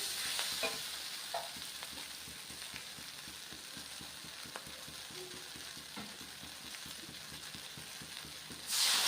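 Water is poured into a Shankar fish oil chachchari curry frying in a pan, bringing a continuous sizzle with scraping stir strokes and occasional clinks, then a brief louder hiss at the very end.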